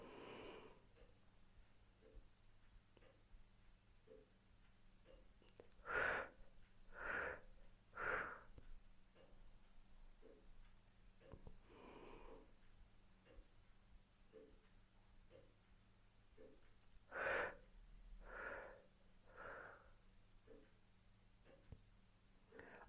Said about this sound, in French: cette respiration au carré, elle a un effet quasi auto-hypnotique